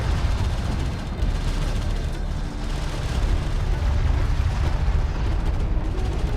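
Weapons fire and explosions in Homeworld: Deserts of Kharak, forming a dense, loud, continuous rumble of booms and blasts from start to finish with little letup.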